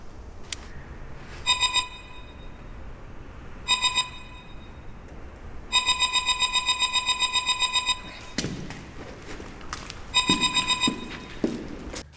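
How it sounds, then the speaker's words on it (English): A motion detector alarm in an abandoned building at Letchworth Village sounds in repeated bursts of rapid electronic beeping, some short and one sustained for about two seconds, with footsteps and rustling between bursts. "If any mass or energy passes through, an alarm will sound."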